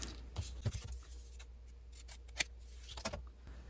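Scissors snip through fabric and paper while trimming a small two-inch twinchie craft piece, giving a few quiet, close, sharp cuts spaced irregularly over a faint background.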